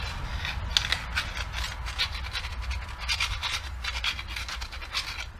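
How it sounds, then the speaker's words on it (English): A metal file rasps back and forth over the edges of a BMW E46 U-joint yoke in quick, repeated scraping strokes, close and fairly quiet, with no talking. "make sure that you file all the edges, so create a smooth pattern for the new U-joint"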